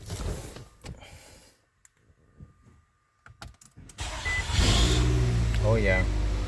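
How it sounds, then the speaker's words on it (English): Starter cranks a Nissan Altima 2.5L engine after a new starter is fitted, a loud steady churn building over the last few seconds following quieter handling noises and brief silence. "it does seem to be cranking over faster than the old tired starter"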